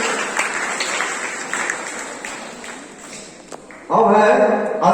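Children applauding at a school prize distribution in Purnia, a broad patter of clapping that swells suddenly and loudly near the end, with a voice speaking over the earlier part.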